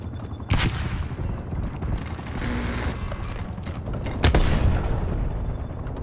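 Sniper gunfire rings out in the online shooter Call of Duty Black Ops Cold War: two loud, sharp shots about four seconds apart, each with a short ringing tail, over low game ambience.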